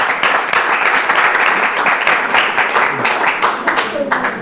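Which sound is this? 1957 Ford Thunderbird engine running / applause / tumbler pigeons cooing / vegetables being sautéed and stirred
applause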